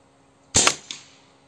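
A single sharp airgun shot firing a Slug Monster pellet through a Fiora 600mm barrel, a crisp close crack followed by a short fading tail, with silence before and after.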